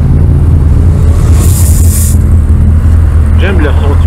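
2003 Yamaha FJR 1300 motorcycle on a ride, its engine a loud, steady, deep rumble throughout, close and continuous with a brief whine near the end.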